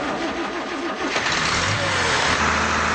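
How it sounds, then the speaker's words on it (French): Water-powered car engine sputtering into life, a rough cranking churn that catches and settles into a loud, steady running rumble, close by with no voices. "voilà la machine qui pétarade à tout va."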